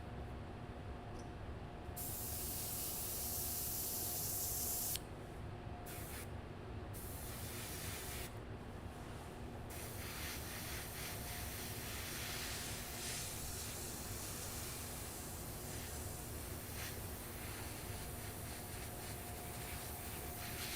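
Paint hissing from an airbrush in a garage, a faint, steady spray that stops and starts in short bursts over a low background hum.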